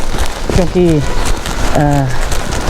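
Rain falls steadily during a morning walk, a dense crackling patter heard beneath a voice as she talks.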